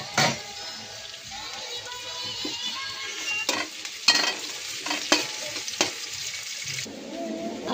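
Chopped onion, garlic and green chili sizzle steadily in a hot pan, with a spatula scraping and stirring in sharp, irregular strokes close by; no voices.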